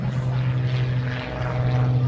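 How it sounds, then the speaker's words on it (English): An aerobatic propeller airplane performs a vertical climb with rolls at the Great Tennessee Air Show, its engine a steady loud drone with a strong low hum, heard alone throughout. "Now rolls the airplane around, a fantastic airplane, the performance on that airplane."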